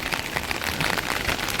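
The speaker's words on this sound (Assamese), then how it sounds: "এতিয়া অকণ জোৰকৈ আহিছে বৰষুণটো" Heavy rain pouring down and pattering densely on a rooftop and nearby surfaces, a steady hiss with scattered drop impacts and no voices.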